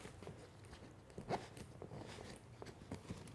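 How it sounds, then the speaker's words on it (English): Zippers on a Peak Design Travel Backpack 45L slide along the back and front access openings, giving quiet short rasping pulls with small clicks, close up and faint, with no talking. "I'm going to move my zippers to the top for both the back access and the front access."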